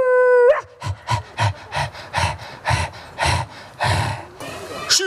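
A group of children at a family playground picnic with music imitates a puppy barking, voicing about ten short rhythmic woofs in a row, loud and close, after a brief adult voice at the start.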